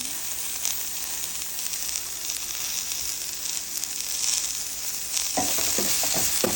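Rui fish bharta with onion greens frying in a pan: a continuous bright sizzle close up, with a few scraping stirs near the end.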